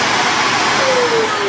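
A Henry vacuum cleaner fitted with a Numatic turbo electric power head runs steadily, a loud constant motor whine and broadband airflow roar with a faint rising tone, no speech.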